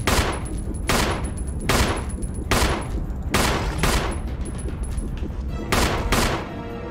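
Pistol gunfire in Resident Evil 1 HD, about nine evenly spaced loud shots roughly every 0.8 seconds, close and sharp over a steady background hum.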